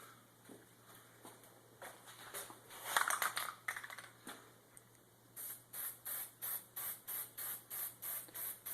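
Short bursts of spray hiss from a can of plastic dip come first, then a regular run of quick, sharp spray pulses at close range, with no voices.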